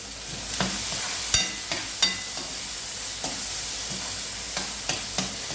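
Onion, green chilli and neem leaves stir-frying in a pan over low gas, a steady close sizzle broken by several sharp scrapes and clinks of a spoon against the pan, with no voices.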